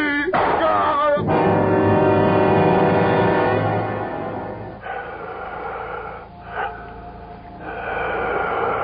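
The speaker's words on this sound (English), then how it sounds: "It sounds like the whole room is breathing. I can hear it breathing." Eerie, drawn-out breathing effect in a radio mystery drama, heavy snort-like inhalations and gasps filling the scene loudly at first, then easing into a softer, ragged background rasp with no talking over it.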